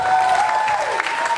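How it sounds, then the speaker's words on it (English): Audience applause at a world music festival mini session, a short, full burst of crowd clapping heard alone, loud and steady throughout with a faint sustained tone under it. "come on, clap lah."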